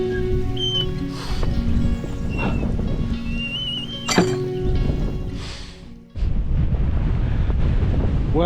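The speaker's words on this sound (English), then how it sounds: "we're certainly gaining a bit of high-speed wind, certainly picking up like it was forecast to" Strong wind buffets the microphone on an exposed ridge walk, a loud, steady roaring rush with gusting swells and a sharp thump, continuing without talk.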